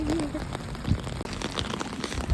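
Steady rain patters on an umbrella outdoors, a continuous wash of drops running the whole time under brief talking.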